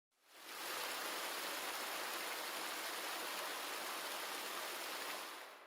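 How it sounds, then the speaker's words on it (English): Waterfall splash sound effect: a dense, continuous roar of rushing, splashing water that fades in quickly, holds steady and loud, then tapers slightly at the end, with no voices. "I think I'm using the waterfall splash one."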